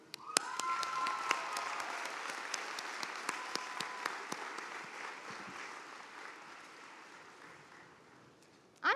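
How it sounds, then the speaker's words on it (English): Applause fills a university commencement ceremony, a broad sustained sound of many hands clapping in a large space, with scattered sharp claps standing out, slowly fading toward the end. "would you please join me in a round of applause for all who have helped us earn this degree?"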